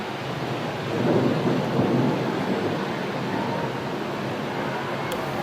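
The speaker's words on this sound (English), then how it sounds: "The rain continues to pour on" Heavy rain pouring down during the Lee Kuan Yew state funeral procession in Singapore, a steady dense wash of noise with a low rumbling swell near the start, heard from a distance.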